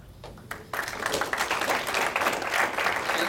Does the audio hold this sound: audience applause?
yes